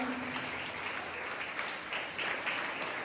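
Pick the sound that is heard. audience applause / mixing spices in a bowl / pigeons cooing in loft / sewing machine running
audience applause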